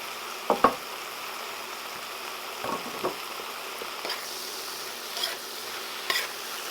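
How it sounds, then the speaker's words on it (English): Cooked pasta stirred into a white wine sauce with broccoli, giving a few soft, scattered scraping and squelching taps over a quiet background hiss, with no talk. "I'm gonna go ahead and stir that in nice and even"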